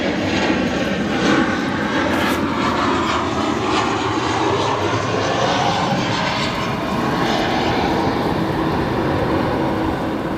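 An American Airlines airliner arriving at Chicago O'Hare International Airport, its jet engine roar loud and steady throughout, a broad continuous rumble with no talking.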